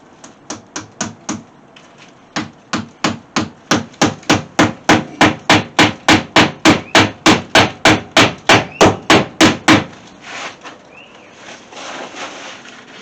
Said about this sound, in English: Now I'm getting this side here nailed down.